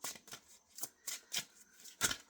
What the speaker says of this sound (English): So let me go ahead and shuffle and then we'll get this party started.